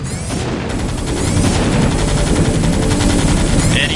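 StarCraft units firing on an expansion in a video game, a dense continuous clatter of rapid gunfire and booming impacts, loud and sustained, with a faint voice underneath.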